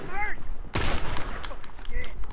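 Burst rifle fire from The Last of Us Factions video game: a sharp, loud volley of rapid shots cracks out mid-clip, with a few faint distant pops afterward and brief voice fragments at the edges.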